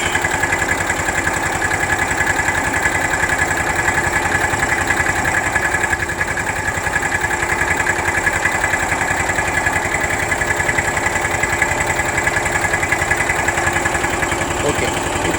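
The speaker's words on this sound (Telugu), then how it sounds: "ఇప్పుడు మనం ఏం చేద్దామంటే బండిని స్టార్ట్ చేద్దాం ఒకసారి" A vehicle engine idles steadily at about 1200–1300 rpm after being started, a continuous mid-pitched hum with faint vibration that holds for the whole stretch, up close.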